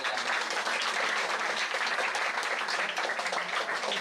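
Students at a campus meet held in support of a parliamentary candidate applaud steadily and loudly, a dense wash of clapping that holds evenly for several seconds with no voice over it.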